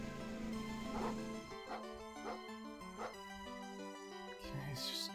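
Dog barking in the lawn-mowing video game Hover Bovver, a few short bow-wow barks repeating over game music and jingles, moderately close.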